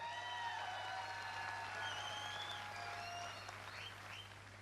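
Dense, steady applause from a large audience at a network marketing event, sustained throughout with a faint low hum beneath and a slight easing near the end.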